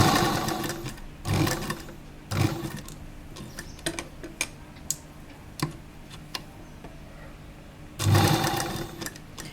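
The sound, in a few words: sewing machine stitching a kurta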